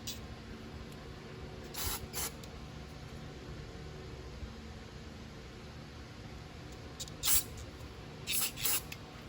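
Carburetor cleaner sprays onto a new-style Briggs carburetor from a 2018 Toro Mow N' Stow lawn mower, heard as a few short hissing bursts, one around two seconds in and a tight cluster near the end, over a quiet background.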